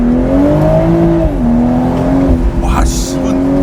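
A BMW Z4 M40i roadster, driven with its roof open in winter in Sport Plus and manual mode, gives a loud, steady exhaust drone. The pitch climbs under acceleration, dips at a gear change and then rises again, close and continuous.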